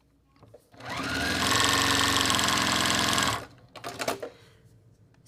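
A sewing machine fitted with an open toe foot runs a short stitch length, stitching steadily and loudly for about two seconds before stopping, followed by a few soft handling clicks.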